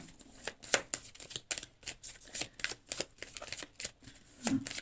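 Playing cards shuffled in quick repeated riffles, a crisp papery flutter that comes in short bursts close by, with no talking over it.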